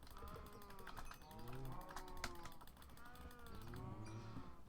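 Minecraft cows in a farm pen moo again and again in overlapping low calls, fairly faint, with clicking game mechanisms and someone talking over them.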